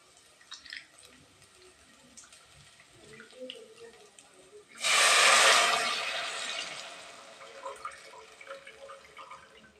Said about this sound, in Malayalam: വെള്ളത്തിലിട്ട പുളി ഇട്ടാ നമുക്ക് ഈ പുളി വെള്ളം ഒഴിക്കുക